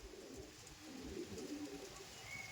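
Andhra pigeons cooing softly in a loft, low repeated coos blended with faint rustling background noise, no voices.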